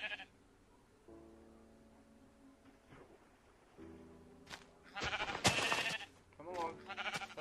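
Minecraft sheep bleat in a few short, wavering calls, alone at first, then mixed with sharp, louder clicks and swishes toward the end.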